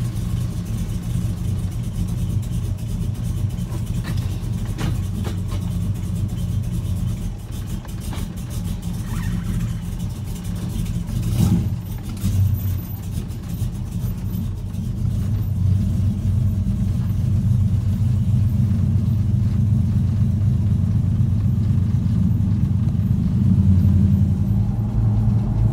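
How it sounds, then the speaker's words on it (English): A 1978 Chevy C10 pickup's V8 rumbles steadily through headers and Flowmaster exhaust from inside the moving truck, a deep continuous drone that swells slightly as it accelerates. "we're test driving this 78 Chevy C10"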